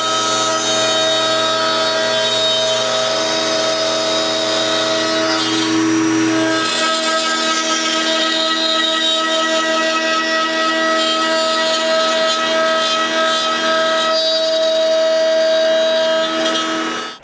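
Power saw cutting a top slot in wood in several passes while building a doweling jig, with a steady loud tonal whine running continuously and shifting pitch partway through, no talk.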